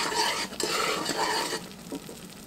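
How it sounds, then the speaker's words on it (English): A spoon scrapes and stirs through a pot of bubbling saltine toffee mixture, with soft sizzling and occasional clinks against the pan, close by and steady. "it's starting to boil, but it's not boiling to where I can't stir it down"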